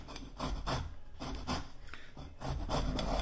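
Tangerine peel scraped across a coarse grater in repeated rasping strokes, close and fairly quiet, a rhythmic back-and-forth with no voices.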